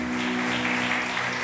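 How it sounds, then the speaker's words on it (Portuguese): A church congregation at a Brazilian service claps for Jesus, a brief even burst of applause with a low sustained hum from the sound system underneath. "Vamos aplaudir Jesus em forte"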